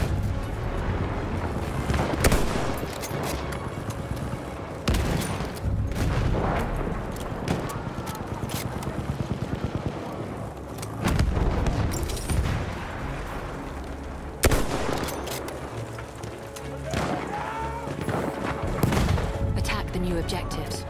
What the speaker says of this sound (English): Wait for the enemy artillery barrage to stop firing.